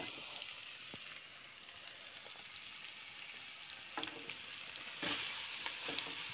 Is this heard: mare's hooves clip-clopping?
no